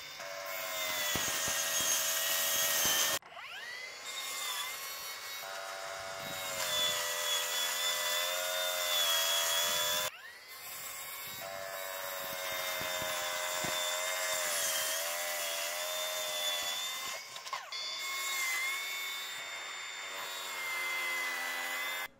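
Milwaukee M18 cordless track saw ripping through several cuts, a loud, steady high-pitched whine with sustained cutting tone, dropping briefly between passes around three and ten seconds, then spinning back up; no talking.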